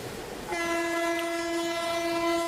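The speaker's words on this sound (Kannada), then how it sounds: "ನಮ್ಮ ಟ್ರೈನ್ ಈಗ ಎಂಟ್ರಿ ಆಗಿದೆ ಬಳ್ಳಾರಿ ನಗರಕ್ಕೆ" A train horn blares loudly and steadily after a brief rumble as the train arrives at Ballari, holding one sustained note over the rolling noise of the train.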